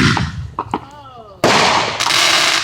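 Night fireworks go off nearby with sharp loud bangs and crackling bursts, one big blast followed by sustained crackle, with a few voices in the background.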